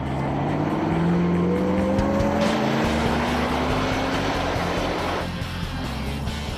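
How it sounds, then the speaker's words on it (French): A Ford GT sports car accelerates hard, its loud, close engine note climbing steadily in pitch before easing off toward the end. "Elle accélère sacrément bien."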